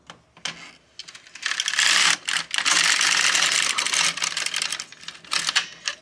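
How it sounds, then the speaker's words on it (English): An LK150 knitting machine carriage swept across one row, giving a close, loud rattling whoosh with clicks at the start and a short clatter at the end. "Now we can knit one row."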